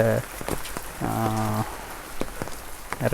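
Steady monsoon rain falls over a Cauvery Delta village with coconut saplings and garden plants, a dense hiss of drops on surfaces, while voiced calls rise intermittently above it.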